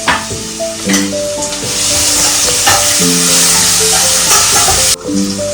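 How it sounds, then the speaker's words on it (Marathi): Crushed ginger and garlic fry in a pan of spiced chicken with a loud, close sizzle, broken by clanking spoon and stirring strokes and a brief dip near the end. "आता मी आलं लसूण टाकते"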